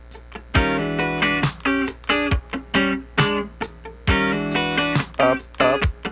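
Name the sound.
funk rhythm guitar part with upstrokes and downstrokes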